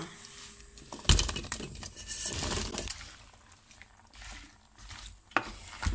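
A spoon stirring tomatoes and courgettes in a cooking pot, with scraping and clinking against the metal, a sharp knock near the start and another near the end, and a soft simmer underneath.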